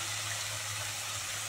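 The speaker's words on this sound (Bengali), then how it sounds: "এবার মিক্সি ধোয়া জলটা দিয়ে দেবো।" Water used to rinse a mixer jar pours into a pan of simmering soybean curry, a short, soft, continuous splashing flow.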